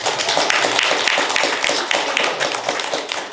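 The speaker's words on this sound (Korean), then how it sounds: "한번 박수 쳐 주시죠" Dense applause from a seated audience at a sponsorship signing ceremony for the World Masters Athletics Championships in Daegu, many hands clapping close and loud in a continuous patter.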